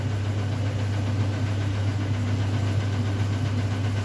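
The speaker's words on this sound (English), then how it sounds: "It's got the typical Maytag rattle." A Maytag MAT12PDEGW washing machine spinning at full speed on a hot 50°C darks and whites cycle, with a steady low mechanical hum and continuous rattling vibration that stays loud and close.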